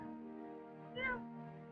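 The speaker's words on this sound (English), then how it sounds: "our one cat never grew out of his little... No, just this little kitten meow." An adult cat with a small kitten-like meow gives one short, squeaky, rising meow, faint and close, over a steady low hum.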